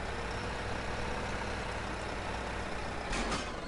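A big pickup truck engine in a farming video game gives a steady, loud, broadband drone with no pauses, briefly swelling near the end.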